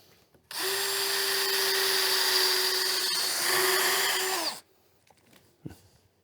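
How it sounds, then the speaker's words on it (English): A power drill whirs steadily for about four seconds at close range, drilling vertically into a boat's transom frame, then cuts off, followed by a brief faint clunk. "when you're drilling holes vertically like this"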